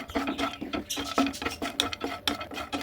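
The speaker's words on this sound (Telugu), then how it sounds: "నెయ్యి హీట్ అయ్యాక పది ఆరు పదిహేను జీడిపప్పులు లైట్గా వేయించుకోవాలి" A spoon stirs cashews frying in ghee in a pan, giving steady, close scraping and rattling with faint sizzling throughout.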